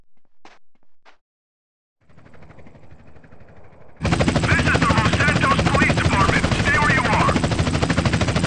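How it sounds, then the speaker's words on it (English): Loud, steady helicopter rotor thrum in the video game GTA San Andreas kicks in midway and continues, with brief bursts and muffled voices heard before it starts. "jump on the helicopter!"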